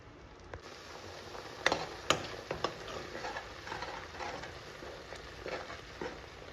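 Masala paste sautés in a pan on the stove, a steady soft sizzle with a few sharp scraping ticks from stirring, close and alone with no talk.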